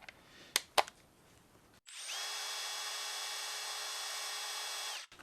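A lathe spins up a freshly welded part on a homemade air-to-electric right-angle ratchet driver, a steady loud whirring motor tone that holds for about three seconds after two sharp clicks, then cuts off.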